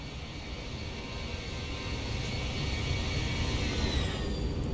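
Simulated jet airliner, a ZIBO Boeing 737 in X-Plane 11 climbing out of Salt Lake City, passes in a flyby as a steady broadband engine roar that swells slightly toward the end, heard alone with no talk.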